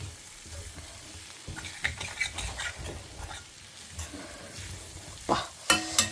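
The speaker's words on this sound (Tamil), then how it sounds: "இதை போட்டுட்டு ஓரளவுக்கு நல்லா வதக்கி விட்டேல் அப்படின்னாக்கா இதில் உள்ள அந்த ஆயிலினஸ் வந்து ரொம்ப ஃப்ளேவராக இருக்கும்" Desiccated coconut and pumpkin being sautéed in a pan for drumstick sambar, giving a soft sizzle under close scraping and stirring strokes that grow sharper and louder toward the end.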